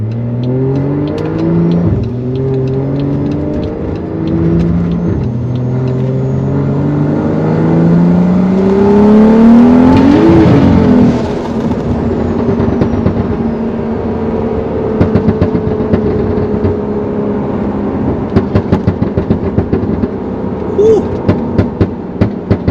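BMW E60 car engine revs up and down in several rising and falling sweeps, loud and close, then settles while sharp clicks and knocks sound near the end.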